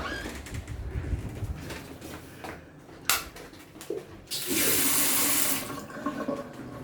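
Tap water at an Airbnb gushes into a sink in a loud burst of rushing hiss after scattered clicks and handling knocks, then cuts off.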